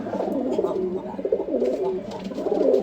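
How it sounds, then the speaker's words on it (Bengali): A male pigeon coos in soft, rolling, throaty phrases that repeat steadily, close by, with faint background noise. "আজকে আপনারা বুঝতে পারবেন নর কবুতর ডাক কীরকম"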